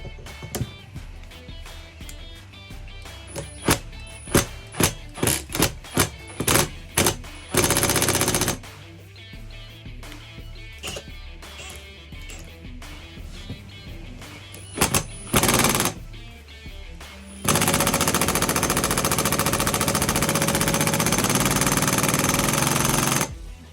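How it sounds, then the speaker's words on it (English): An impact wrench hammers at a stuck chuck on a Milwaukee M18 drill in loud rapid bursts, first short repeated blasts, then longer sustained runs with pauses between. "after using the impact on it"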